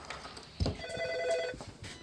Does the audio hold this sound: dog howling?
no